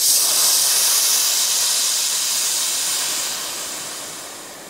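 Loud, continuous hiss of superheated steam meeting ice cubes, a steady broadband rush that eases off slightly toward the end.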